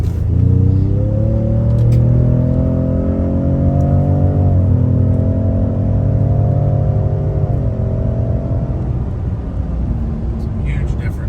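A stock 2019 Ford Raptor Gen 2 with four people aboard on a test drive sends a steady low engine drone through the cabin, its pitch climbing and stepping with gear changes, while people talk over it.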